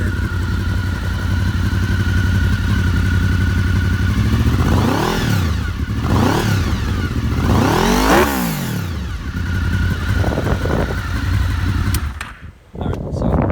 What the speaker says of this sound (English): Let me throw a rev out of here.